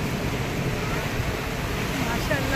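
Sea surf at the shore near Haji Ali, a steady broad wash of waves and wind buffeting close to the microphone, with indistinct voices underneath.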